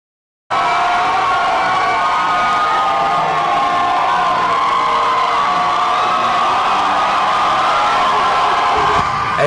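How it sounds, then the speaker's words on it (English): A room full of people cheering and chanting USA with whoops, loud and continuous, a dense crowd roar sustained throughout. "he's walking into a room full of black people cheering him on and saying USA and woo, woo, woo"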